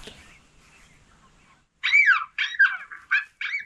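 Coyotes calling from hills beyond a meadow, distant faint yips at first, then a run of loud rising-and-falling howls and yelps in several bursts.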